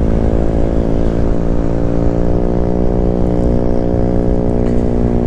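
A Honda ADV 160 scooter with a bored-up engine drones loudly while riding on the road, a steady close-up engine hum with strong even harmonics and rushing wind noise throughout.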